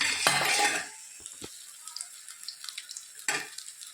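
Two short bursts of hissing sizzle as batter-coated slices go into hot oil, fried like bhajiya, with quiet stretches and small crackles between.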